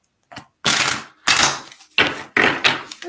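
Oracle cards shuffled on paper, four loud close bursts of riffling rustle and flutter with brief silent gaps between them, no talk.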